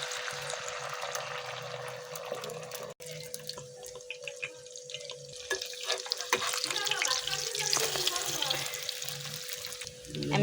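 Eggs sizzling in a pan, with a steady frying hiss that grows louder and denser partway through, broken by small pops and crackles, while a voice talks over it.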